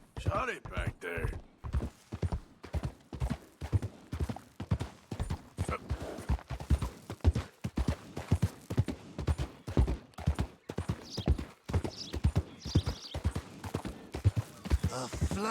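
Horse hooves clip-clop in a steady rhythmic gait in Red Dead Redemption 2, a long run of regular close thuds, with occasional faint background voices.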